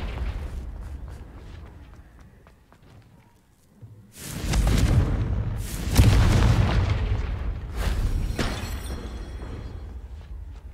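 Deep, booming magical blasts from the Confringo fire spell in the game Hogwarts Legacy, with a quiet stretch followed by two or three loud, rumbling explosions that roll into each other and decay slowly.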